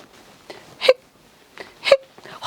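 A storyteller's voice imitates a shark's hiccups: two sharp, strained vocal hics about a second apart, each preceded by a short breathy catch, close and fairly loud with no other talk.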